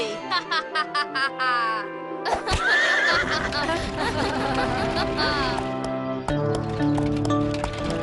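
A cartoon horse pulling a carriage gives a loud, shrill whinny between rhythmic clip-clop hoofbeats and bright musical flourishes, all close and prominent.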